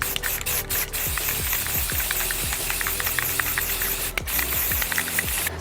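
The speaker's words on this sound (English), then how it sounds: "we put about 3 light coats of the primer on these aluminum panels" Spray primer is applied to aluminum PC case panels in a loud, continuous aerosol hiss, broken by a few brief pauses between passes.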